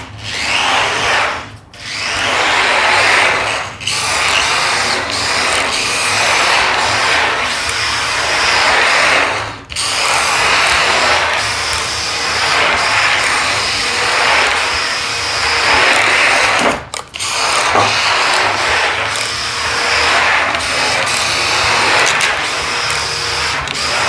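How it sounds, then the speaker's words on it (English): A Mercedes model car on drift tyres runs laps around an indoor test track with a painted surface, giving a loud, steady, high-pitched motor whine with brief dips as it slides through the turns. "This Merc has got drift tyres. Might just run the drift tyres around just to see what it's like."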